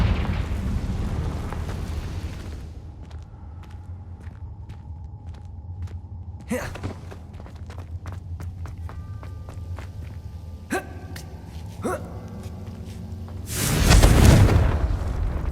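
Confringo blasting spells fired in Hogwarts Legacy on PS5, a sharp burst near 6.5 s followed by crackling pops and a heavy roaring explosion near 14 s over a low ambient rumble.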